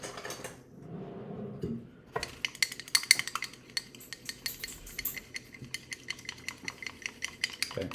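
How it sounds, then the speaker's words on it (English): An egg is whisked in a cup: after a brief rustle, quick rhythmic clinking of a utensil against the cup's sides runs steadily and close, with no talking. "Okay, so I'm just whisking up some egg in a cup"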